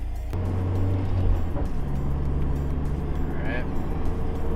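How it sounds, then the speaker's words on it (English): A motor vehicle passes on a road near a Mazdaspeed 3 build, a steady broad engine and tire rumble holding throughout with a brief higher whine near the end, moderately loud and close. "Why don't you wait till the cars pass?"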